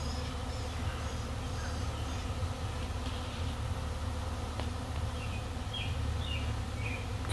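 Swarm of honey bees buzzing at a hive kept by a beginner beekeeper, a steady dense drone with individual bees zipping past close by, fairly quiet throughout.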